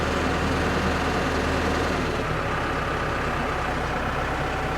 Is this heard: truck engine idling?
yes